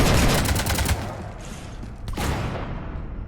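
Rapid gunfire aboard a ship in Mass Effect 3, a dense burst of shots in the first second, then scattered lighter reports and a sharp crack near the two-second mark, fairly close and loud.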